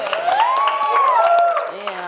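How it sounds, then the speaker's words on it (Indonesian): Audience applause and cheering at a stand-up comedy roast show, dense clapping with shouts and whoops from a packed room, loud and close, with voices mixed into the crowd noise. "tepuk tangan dulu teman-teman."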